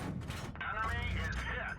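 Tank cannon fire from World of Tanks Blitz, with a few muffled, rumbling shots going off amid battle noise while a person talks over them.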